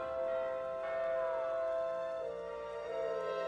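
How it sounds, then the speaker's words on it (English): A bell chime from the video game Sky: Children of the Light rings with sustained tonal layers over atmospheric game music, shifting pitch about a second in and again near two seconds. "That's why I received the bells."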